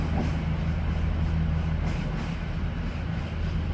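A train passes through Carlisle station with a steady low rumble and rolling wheel noise held at constant loudness throughout, close by and continuous with no voices.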